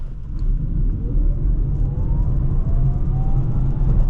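A 2024 Polestar 2 Dual Motor AWD Performance electric car accelerates hard, a loud, steady low rumble of road and wind noise with a faint rising motor whine.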